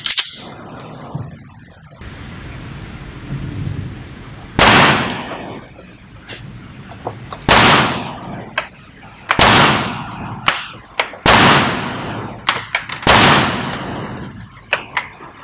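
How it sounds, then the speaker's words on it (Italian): Six loud gunshots from a Heckler & Koch Mk23 .45 ACP pistol, fired at uneven intervals over a few seconds, each sharp crack followed by a brief echoing tail. "Ora spariamo, finalmente"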